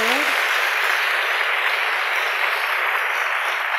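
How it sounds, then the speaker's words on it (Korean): A church audience claps together in dense, steady applause that fills the space loudly and evenly from start to end, with no voices on top. "자, 우리 하나님께 영광의 박수를 드립니다."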